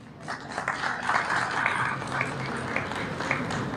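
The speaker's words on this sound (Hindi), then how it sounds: "तालियां भी क्यों हैं?" Applause from guests at a formal association dinner, a dense, steady patter of many hands filling the room for several seconds, with some murmuring voices mixed in.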